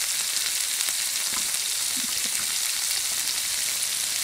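Mung bean sprouts fry in a pan in a steady, bright, even sizzle that stays at constant loudness, with a few faint stirring knocks.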